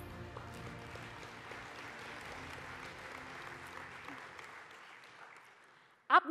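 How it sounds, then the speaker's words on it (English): Audience applause at a sports and media awards ceremony, a steady dense wash of clapping from a large crowd that slowly thins toward the end before a brief loud burst. "Give them another round of applause."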